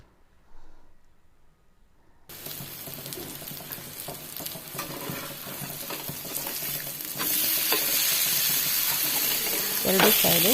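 Fish frying on a flat tawa sizzles steadily after a short quiet start, with occasional stirring and scraping sounds, and the sizzle grows louder and brighter toward the end.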